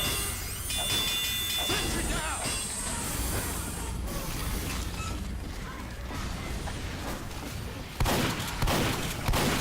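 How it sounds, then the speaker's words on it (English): Sentry gun in Team Fortress 2 firing in dense, continuous bursts amid a busy game battle, with a sharper louder burst near the end; voices talk over the action. "My sentry's doing work"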